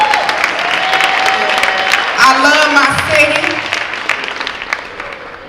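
A crowd at a cancer awareness event applauds, with loud sustained clapping and cheers while a voice speaks over it.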